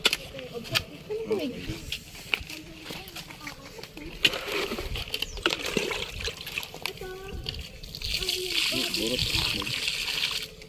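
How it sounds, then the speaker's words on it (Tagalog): Water gushes and splashes steadily with trickling and splattering, while voices, including a child's, talk over it and the flow grows louder toward the end. "Ay, tubig na."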